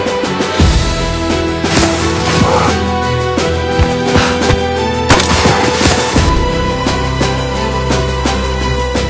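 Gunfire in a film scene: a dense run of loud, close gunshot cracks and booms over a busy soundtrack, some shots in quick bursts and others spaced apart.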